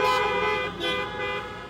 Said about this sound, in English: Tonight, I want you to honk your horn every time you see art.